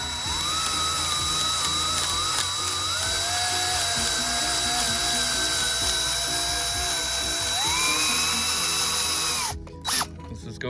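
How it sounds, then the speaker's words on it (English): A power drill turning a 3/8 bit, a sustained whining motor close by that rises in pitch partway through, with rhythmic grinding of the bit cutting the workpiece before the drill stops near the end. "and we just want to go ahead and drill."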